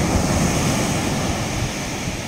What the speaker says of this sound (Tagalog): May kalakihan yung mga alon,